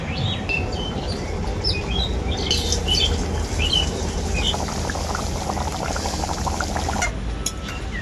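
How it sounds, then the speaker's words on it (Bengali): A pot of chicken curry gravy made with mango kasundi boils and bubbles at a steady, close, fairly loud pace, with no talking. "ঝোলটা এরপর ভালো করে ফুটিয়ে নেব"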